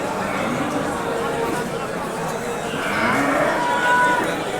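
Cattle and calves low and moo at a busy cattle market, amid a steady murmur of crowd noise and chatter, with a louder call rising near the end.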